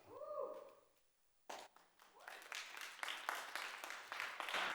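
An audience breaks into clapping at a city commission meeting after a public speaker finishes, starting with a few scattered claps and swelling into steady applause filling the room.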